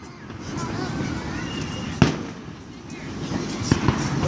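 Fourth of July fireworks going off nearby at night, sharp bangs and crackles, one loud burst standing out, while people talk over the popping.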